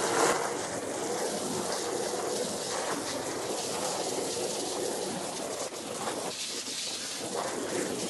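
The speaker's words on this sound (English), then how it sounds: "What I'm then going to do is hose the bottom of that as well." Water from a hose sprays steadily into an emptied dirty hot tub while dirt and debris wash out, a continuous close splashing hiss that stays even throughout.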